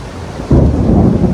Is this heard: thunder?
yes